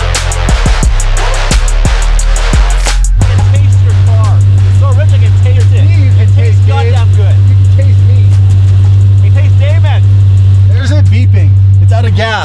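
A Lamborghini V12 engine starts with a few sharp revs, then settles into a loud, steady, deep idle close by while people talk over it.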